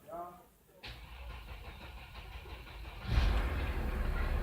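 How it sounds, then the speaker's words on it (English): A 2006 Mercedes ML280 CDI diesel with a fault is cranked, catches after a few seconds and settles into a steady, fairly loud idle rumble. "engine is running now"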